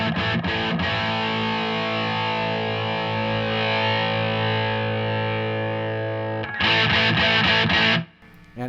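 An electric guitar through a Mooer Black Secret distortion pedal, filter at about 3 o'clock, sustains a thick, buzzing chord for several seconds, then a brighter, harsher chord rings before stopping abruptly.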